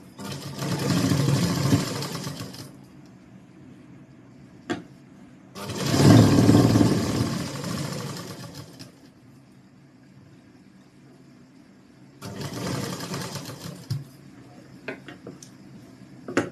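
Sewing machine stitching a Rajasthani kanchli blouse in three whirring bursts of about two to three seconds each, separated by quiet pauses with small clicks and handling sounds.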